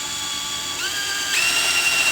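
A power drill whines steadily, its pitch climbing as the bit bites into thin metal of a lawn mower, then settling into a higher, harsher grinding tone.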